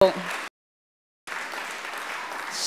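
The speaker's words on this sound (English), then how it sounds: "Give yourself a round of applause for looking so cute." Audience applause in a room at a literary awards evening, clapping that cuts out briefly into silence and then resumes as a steady, moderately loud patter.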